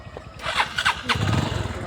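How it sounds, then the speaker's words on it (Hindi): A motorcycle engine cranks and catches near the end, settling into a low, uneven rumble. Someone talks over the start of it. "देखो ये वाली बाइक।"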